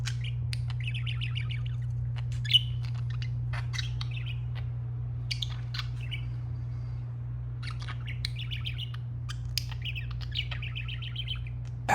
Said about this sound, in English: It chatters to the air, clicks, soft trills, an eager tail flick, every move an invitation.